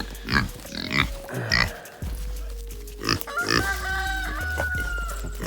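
Chickens cluck and call in bursts around a farmyard at feeding time, with a pig grunting among them and a steady low hum underneath.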